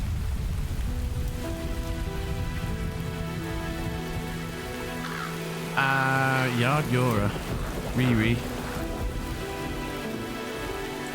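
Heavy rain drums steadily on a surface as a constant wash of noise, with people talking over it in bursts partway through.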